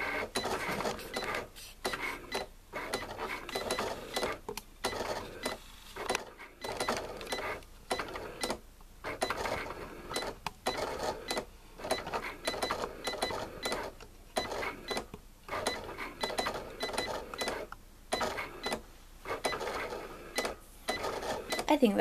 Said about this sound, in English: we're going to go ahead and hit that and watch the machine do its work